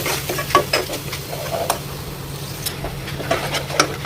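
A spatula stirs masala paste in a non-stick pan over low flame as the oil separates out. Close, repeated scraping strokes ride over a soft, steady sizzle, with no talking.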